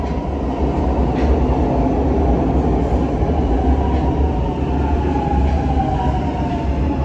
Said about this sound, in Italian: Venga signor Mardo che è arrivato il treno che ci porterà in Italia